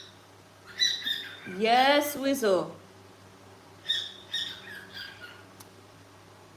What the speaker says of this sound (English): You hear the birds? It's their sleep time.